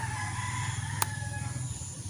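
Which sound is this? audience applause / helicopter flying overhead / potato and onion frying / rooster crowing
rooster crowing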